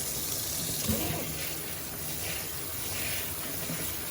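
Red beans rinsed in a pot, with water pouring and splashing steadily at close range, then swirling and gushing as it is dumped out, with no voices over it.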